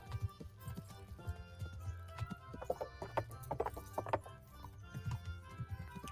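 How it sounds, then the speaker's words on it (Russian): Horse hooves clip-clop in a quick, uneven trot in a video game, close and moderately loud, with no talking. "Неплохая у меня лошадка."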